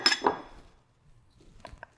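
Three or four chopped garlic cloves tipped into a cooking pot on a stovetop give a quick double clatter up front. A few faint clinks follow, with no talking.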